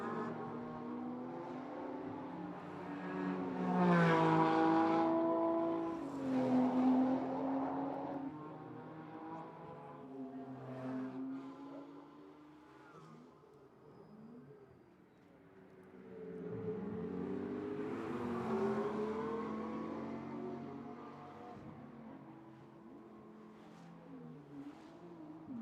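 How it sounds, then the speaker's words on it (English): Twelve GT4-class race cars lapping a street circuit during qualifying, engines rising and fading as cars pass at a distance, with two swelling drive-by surges and a steady mechanical drone between them. "So 12 cars from the GT4 division on course."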